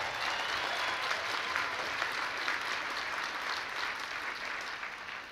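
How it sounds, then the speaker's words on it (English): A large audience at the White House Correspondents Dinner breaks into a dense, even wash of applause that holds steady at moderate volume and gently fades near the end. "was that Roger Ailes applauding out there?"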